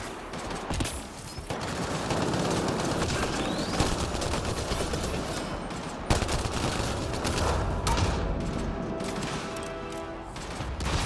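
A deployed combat turret in Mass Effect Andromeda fires sustained rapid bursts of automatic gunfire, loud and close, with brief breaks and sharp impact cracks amid combat noise.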